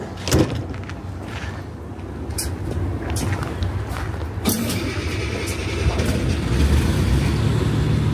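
A bus engine cranks and catches, its low rumble building and settling into a steady run after a few brief clunks, loud and close.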